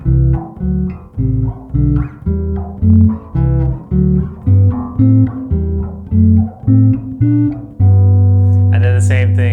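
A guitar plays a quick series of plucked notes leaping in fourths across the neck in a steady rhythm, close and clear, ending on a longer sustained chord.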